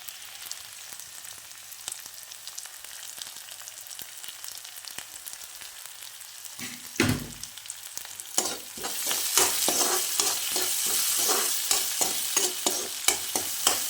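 Sliced onions sautéing with salt in a pan for a masala curry, faint scraping at first, then a spatula clatter followed by a louder, brighter sizzle with repeated stirring scrapes close by, no voices.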